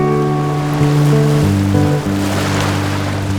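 Ocean waves roll and wash in a steady, powerful rush of surf, heard alone with a sustained tonal drone running underneath.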